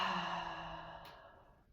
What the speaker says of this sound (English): full breath out.